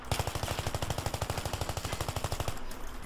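Automatic gunfire from a gun in Battlefield 3, a rapid, evenly spaced burst of about thirty close, loud shots lasting two and a half seconds and then stopping.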